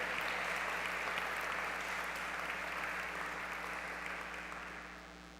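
A church congregation applauds steadily for several seconds, a dense, even wash of clapping from many hands that fades slightly toward the end.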